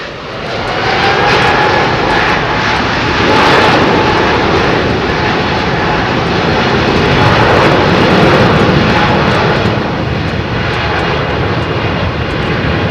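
An Airbus A380 airliner at Heathrow Airport on a windy day gives a loud, steady, broad engine roar that swells slightly and holds for the whole stretch, with no talking.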